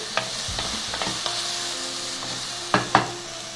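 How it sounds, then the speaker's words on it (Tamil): Finely chopped tomato being sautéed in a pan for a banana stem kootu: a steady close sizzle broken by a few sharp spoon knocks and scrapes against the pan, with no voices. "பொடியாக கட் பண்ணி வச்ச ஒரு தக்காளி தக்காளியும் வதக்கிக்கலாம்"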